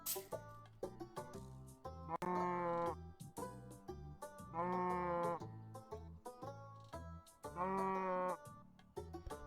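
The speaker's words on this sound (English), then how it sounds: "The real star of the show is, of course, our giant sheep friend here, just doing massive work." A giant sheep in the video game Terracar bleats in three long, loud calls, separated by shorter clicky game sounds and soft background effects.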